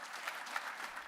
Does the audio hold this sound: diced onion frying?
no